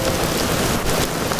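Heavy rain pours down in a steady, loud hiss that fills the whole moment without pause.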